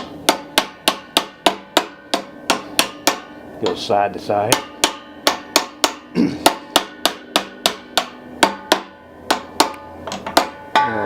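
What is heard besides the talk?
light hammer tapping bearing onto rod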